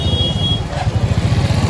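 Motorbikes and cars passing on a busy street in Rohtash Nagar, Shahdara, a close, throbbing two-stroke-like engine putter with a brief high beep at the start, loud and steady.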